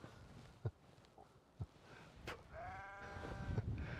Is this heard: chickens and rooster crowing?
no